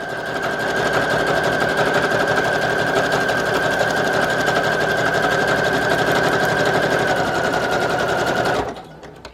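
A sewing machine stitches a paper pocket for a junk journal, running in a loud, steady, rapid buzz for about nine seconds before stopping abruptly.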